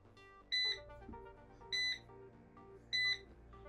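An erabros robot vacuum beeps from its find-my-robot function: three separate bright electronic beeps, evenly spaced about a second apart, with soft background music underneath.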